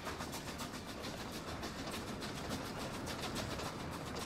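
Trains running on rails in the Workers & Resources: Soviet Republic game, a steady dense rolling rumble with faint rhythmic clatter, continuous and fairly loud throughout with no talk.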